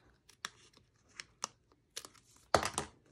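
Scissors snipping through glued punch-art paper, a handful of sparse, crisp cuts with pauses between them and a louder crinkling rustle near the end, with no talking.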